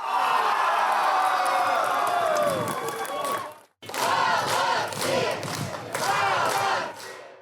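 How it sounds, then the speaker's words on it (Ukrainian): Football crowd at a home ground roaring with cheers and applause for the Poltava U-19 sports club team after a match win, dense and loud throughout with a brief drop midway before swelling again. "Гучними оваціями та оплесками вітали сьогодні, 7 серпня, команду спортивного клубу Полтава Ю-19"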